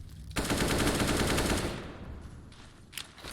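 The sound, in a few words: AWP sniper rifle shot in video game Counter-Strike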